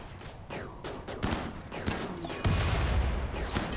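Gunfire in the video game RimWorld as colonists shoot at turrets, a scattered series of sharp cracks and bursts at uneven intervals, moderately loud and growing heavier toward the end.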